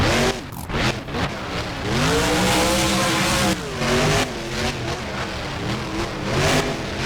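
The Gravedigger monster truck, wearing a red primer mud truck body, revs its engine hard at an arena show, with loud, close, rising and falling roars and repeated throttle blips that nearly fill the moment.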